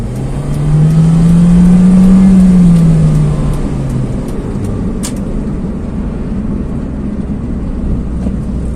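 A Honda Jazz engine with CVT transmission roars loudly as it revs up under hard kick-down acceleration, its pitch climbing then easing off into steady road noise.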